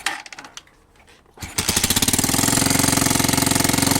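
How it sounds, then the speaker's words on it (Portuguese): A motorcycle engine starts and settles into a loud, steady, rapidly pulsing idle while a finger covers the exhaust outlet, with a short cranking burst before the run. "Agora o Bruno vai dar partida na moto, ó, e eu vou tapar aqui com o dedo mesmo."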